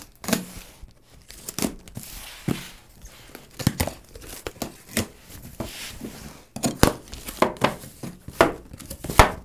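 Packaging of a custom AliExpress watercooling kit is opened, with repeated crinkling, tearing and rustling of plastic and cardboard plus occasional sharp knocks, close up and without talk.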